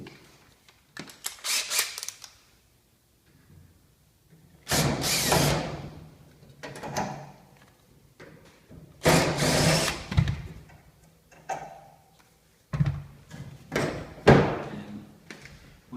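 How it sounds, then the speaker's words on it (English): A power driver whirs in several short bursts as screws come out of the face of a wall heater, close and fairly loud, separated by quiet gaps and a few clunks. "we're going to remove the screws."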